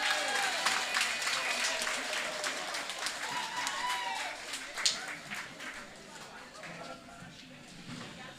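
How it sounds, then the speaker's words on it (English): Audience at a women's forum anniversary event applauds an arriving guest speaker, scattered close claps over a background crowd, fading gradually toward the end with voices mixed in. "Give her a round of applause, please."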